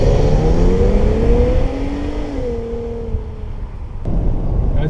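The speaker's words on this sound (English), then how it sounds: "Listen to that engine." An Infiniti Q70 luxury sedan with a seven-speed gearbox revs on a downshift from fifth gear. A loud, smooth engine note climbs in pitch, steps down at the shift and settles under road noise.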